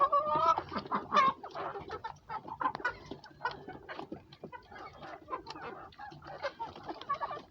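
Poultry clucking and chattering at feeding time, a busy flock with overlapping calls in irregular bursts, close and clear with no talk.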